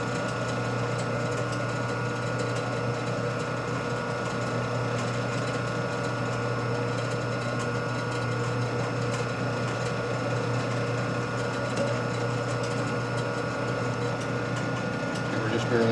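A machine, likely a lathe, cuts a thread on a part for a 1942 Harley-Davidson WLA 45ci springer fork, giving a steady mechanical hum and whir with faint ticks of chips, running continuously at moderate level throughout.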